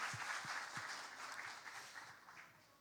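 A church congregation at a Sunday worship service claps together in a faint, distant wash of applause, with a few sharper individual claps standing out early before it slowly fades.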